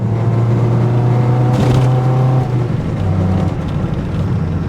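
Car engine revving under load while driving with the clutch engaged, a loud steady drone with a pitch that holds, wavers briefly, then drops slightly as the rev settles.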